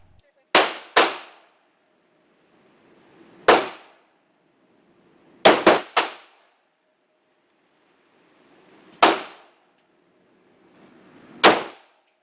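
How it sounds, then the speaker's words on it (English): A Glock pistol with its original barrel fired at a target with cheap ammunition: about eight loud, sharp reports at irregular intervals, some in quick pairs or triplets, each with a short ringing decay into silence. "we had Erica put 10 rounds into a target"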